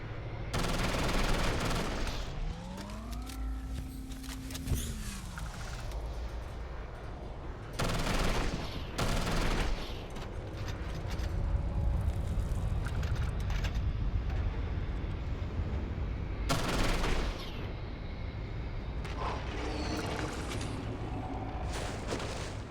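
Gunfire in the game Starfield rings out in loud bursts and single shots across a dense, noisy firefight, with a whooshing swell of some passing craft early on.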